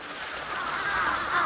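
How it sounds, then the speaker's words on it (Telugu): Cartoon birds calling, a short burst of honking, goose-like cries with a layered, slightly warbling tone, steady and fairly loud throughout. "పక్షులు"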